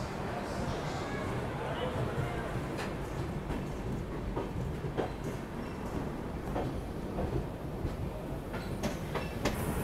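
Chennai Garib Rath Express, train 12612, overtakes the Gondwana Express at Agra Cantt. Its wheels and carriages give a steady, loud, close rumble with scattered clicks and clatter throughout, and voices are faintly audible underneath.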